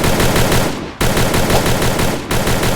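Rapid automatic gunfire from the video game Free Fire rattles loudly in quick, evenly spaced bursts, stopping briefly twice before resuming.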